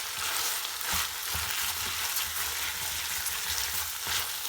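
Meat for dinuguan fries in a pan with a steady, dense sizzle and crackle. Occasional stirring scrapes come through it, close and continuous, and no one speaks.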